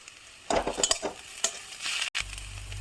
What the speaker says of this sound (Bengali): পেঁয়াজটা আমার লাল লাল করে ভাজা হয়ে গেছে, এবার এর মধ্যে দেবো আদা আর রসুন